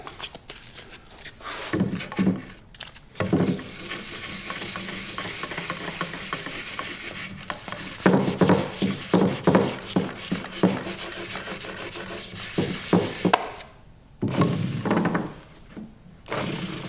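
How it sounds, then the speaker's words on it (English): Fine 220-grit sandpaper rubs back and forth over a lacquer-finished wood surface, close and steady, with strokes coming in rhythmic bursts and brief pauses between passes. "fine sandpaper."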